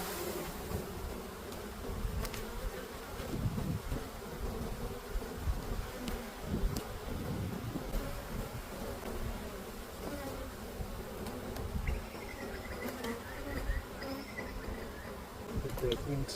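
Honey bees buzz steadily and densely around an open beehive during a mid-spring inspection, a close, continuous drone that carries through the whole stretch.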